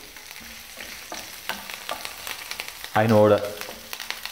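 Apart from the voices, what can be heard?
green chilies frying in a pan for Gobi Manchurian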